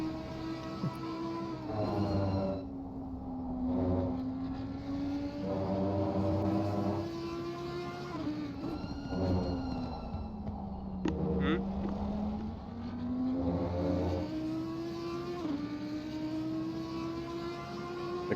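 A race car's engine at COTA drones and whines, rising and falling as it brakes late and slides off track, heard from onboard with intermittent talk over it.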